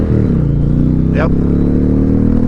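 A 2021 Indian Challenger Limited motorcycle roars loudly under full throttle, its engine note climbing steadily in pitch, with a brief whoosh of wind or a passing sound in the middle.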